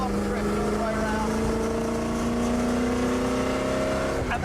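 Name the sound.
race car drifting through a corner at Le Mans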